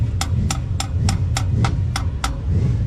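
Someone hammers on the starter solenoid of a rat rod car, about eight sharp metallic blows in an even rhythm, close and loud over a low engine-bay rumble.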